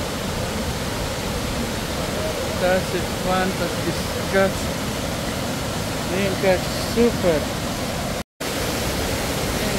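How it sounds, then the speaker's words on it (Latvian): The large waterfall at Plitvice Lakes roars as a steady, loud broadband wash through the whole clip, with people speaking over it. "Esam atnākuši pie lielā ūdenskrituma."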